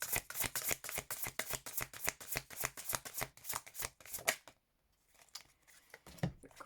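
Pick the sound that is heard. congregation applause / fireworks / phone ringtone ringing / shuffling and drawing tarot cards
shuffling and drawing tarot cards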